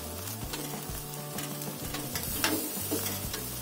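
Goat satay skewers grilling over a fire and being turned, with a steady faint sizzle and a few soft clicks and knocks as the sticks are flipped, quiet and without talk.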